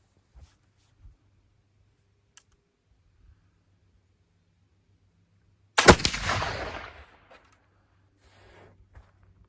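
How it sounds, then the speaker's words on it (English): A black powder rifle shot loaded with alder buckthorn charcoal powder fires once, a sharp loud blast followed by a rolling, decaying roar outdoors, with faint clicks beforehand and no talk. "Okay, here's shot number 2."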